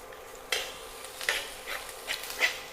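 Potato mezhukkupuratti stir-fry stirred in a pan: a few distinct scraping and tapping strokes of a spoon against metal over a faint sizzle, quiet and close, with no talking.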